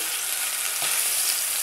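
Steaks searing in a hot oiled pan give a steady, loud, close sizzle and crackle of frying that holds evenly throughout, with no talking.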